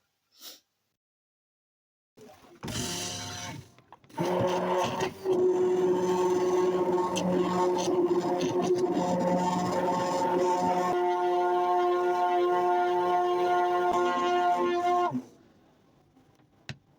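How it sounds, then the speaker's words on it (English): A blender whirs steadily for about eleven seconds, mixing homemade black soap gel; a few clunks come first, then the motor holds a loud, even hum with a pitch shift partway through before cutting off. "You can just blend for a few minutes."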